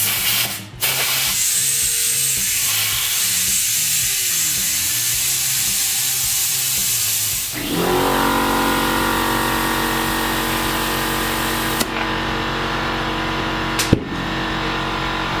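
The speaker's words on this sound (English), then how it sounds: "the air compressor went off as soon as it popped, but popped into place, nice and tight" An air compressor inflates a tire on an off-road wheel with a weld-on beadlock, giving a loud, steady hiss and rumble. The tone shifts partway through, and a couple of sharp clicks follow, including one when the bead pops into place.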